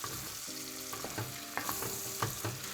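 Pork ribs and nopales sizzle in a frying pan as they are stirred together, with a steady frying hiss and repeated clinks and scrapes from the utensil against the pan.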